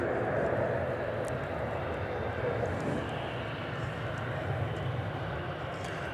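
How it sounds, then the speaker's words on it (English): A fixed-wing passenger airliner, flight 289 from Rome, landing at DFW airport, heard as a steady broadband engine roar holding fairly loud and even throughout, with no voices. "the aircraft landing there was flight 289"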